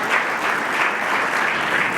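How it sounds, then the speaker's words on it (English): Audience applause for faculty, staff and administration at an arts gala, a dense, steady wash of many hands clapping throughout, loud and continuous with no talk over it. "Let's just have one special round of applause for the faculty and the staff and administration."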